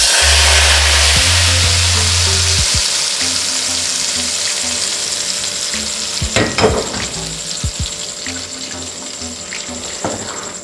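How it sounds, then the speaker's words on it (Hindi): Loud, steady sizzling of garlic dropped into hot oil for tempering dal makhani, gradually settling into a softer crackle with occasional clinks of a utensil. "अब इसका तड़का लगाएंगे"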